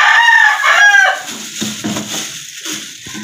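A young stag rooster crows once at close range early in the morning, a loud, strained cock-a-doodle-doo with a rising harmonic call that breaks off, followed by softer clucking and scratchy movement.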